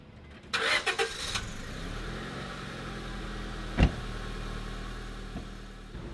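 A car engine cranks and starts, with a brief burst of starter noise followed by a steady idle hum and a single knock partway through, heard close up.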